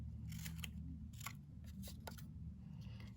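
Scissors snip through paper while cutting out a circle along a drawn pencil line, a quick series of crisp, close cuts over a low steady background hum, with no talking.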